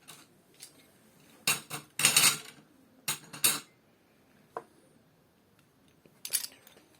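A homemade microwave pizza being cut in a home kitchen, with a utensil scraping and clinking against the plate in several short bursts separated by pauses, close and fairly quiet, with no talking.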